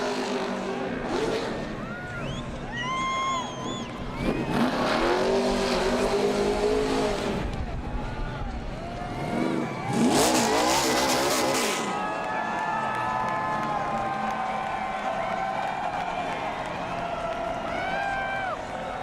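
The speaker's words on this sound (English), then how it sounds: "Steering wheel out the window as he does donuts in front of the crowd" A NASCAR Cup Series race car at Kansas Speedway does donuts in front of the crowd, its engine revving in repeated rising and falling bursts, loud and near, with a commentator talking over it and crowd noise beneath.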